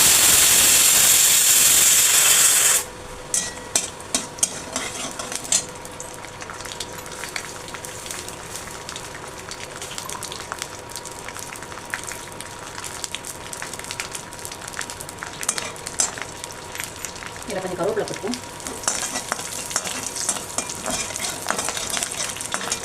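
Dried red chillies and mustard seeds fry in hot oil with a continuous crackling sizzle and scattered pops, heard close up, preceded by a brief loud hiss at the start.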